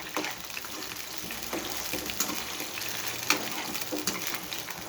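Quartered brinjal pieces fry in oil on high heat, giving a continuous close crackling sizzle with scattered sharper pops and a few stirring scrapes, and no voices.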